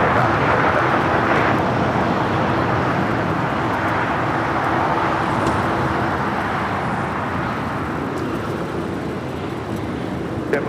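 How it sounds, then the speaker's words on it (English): An Aeromexico Boeing 787-8 Dreamliner arriving at LAX from Mexico City makes a steady, broad jet roar at moderate distance that holds evenly and fades slightly toward the end, with no voices. "This is Aeromexico, a Dreamliner coming in from Mexico City, flight 646."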